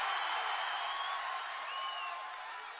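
Large crowd at a Praja Galam political rally in Koduru cheering and clapping, a dense, continuous roar of applause with thin whistles on top that eases slightly toward the end.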